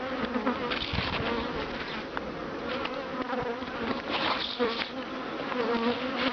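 Honeybees buzzing steadily around an open hive, continuous and close, while a queen is being shut into an isolator cage between brood frames.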